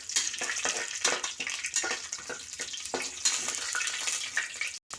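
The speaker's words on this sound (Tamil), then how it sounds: "எண்ணெய் சூடானதுக்கப்புறமா நம்ம எடுத்து வச்சுருந்த பலாவுத்து பொருட்கள் எல்லாம் அதில் போட்டுடலாம்" Seasoning ingredients fry in hot oil inside a pressure cooker, giving a busy sizzle with irregular bursts and spatters that cuts out briefly near the end.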